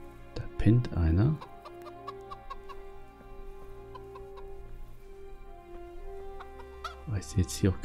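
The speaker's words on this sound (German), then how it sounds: "Oh, blöde Hühner." Chickens cluck in Kingdom Come: Deliverance, sharp and close at the start and again at the end, with quieter ambient tones between.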